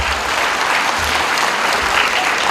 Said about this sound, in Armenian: ծափահարենք աշխուղ Ռազմար Սասունցուն